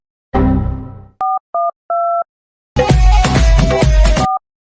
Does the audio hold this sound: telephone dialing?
yes